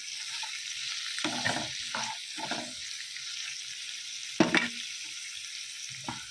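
Egg and potato curry with onion, garlic, tomato and green chilli sizzles steadily in a pan, broken by several bursts of stirring scrapes and a sharp utensil clink, close and alone.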